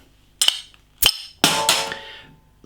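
A bottle of Anarchy Brew Co Hard Times Porter, a 4.3% ABV British craft beer, is opened: two sharp glassy clicks and knocks, then a loud hiss of escaping gas that fades out, no voices.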